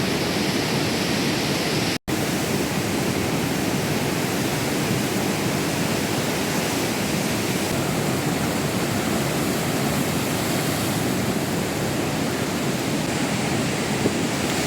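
Strong sea waves crash near the temple grounds at Ganpatipule, a continuous loud wash of surf with wind noise throughout and one sharp break in the sound early on.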